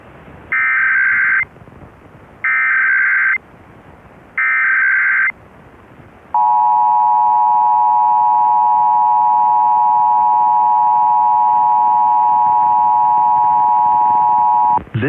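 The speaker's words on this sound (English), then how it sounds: "This is a nationwide test of the emergency alert system issued by the Federal Emergency Management Agency" A nationwide Emergency Alert System test from FEMA opens with three short, loud digital data bursts. A long, steady two-tone attention signal follows and drones on for about nine seconds.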